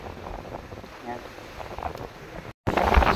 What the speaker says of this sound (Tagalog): Grabe kalakas ng hangin.